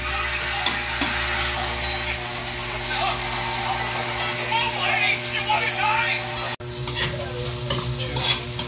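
Seafood sizzles in hot cooking oil while being stirred, a dense steady frying hiss with occasional scraping, under a voice talking and children in the background.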